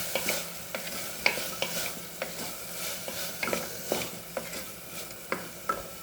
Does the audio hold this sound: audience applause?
no